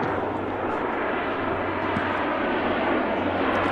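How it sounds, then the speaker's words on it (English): A fixed-wing airplane coming in to land roars as a steady broadband engine drone over a football ground in New Zealand, continuous and moderately loud with no talk. "Sounds like a plane's coming to land."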